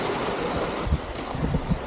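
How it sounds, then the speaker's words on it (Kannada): Water from a hillside stream and falls near Sri Lanka's Nine Arch Bridge rushes in a steady broad wash, with a few low thumps and gusts of wind on the microphone and no voices. "ಇಲ್ಲೊಂದು ಸ್ಟ್ರೀಮು, ಫಾಲ್ಸು ಬೆಟ್ಟದ ಮೇಲಿಂದ ಬರ್ತಾ ಇರೋದು."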